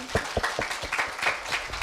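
A small audience at a Korea University middle school speaking festival claps for two student presenters, a brief burst of distinct, fairly close hand claps in an uneven rhythm, with no talking.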